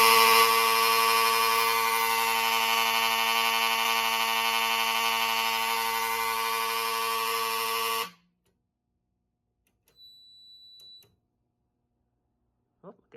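A Fire-Lite Miniscan 112 fire alarm panel's evacuation horn blares loud and steady for about eight seconds, then cuts off abruptly, leaving near silence with a few faint clicks.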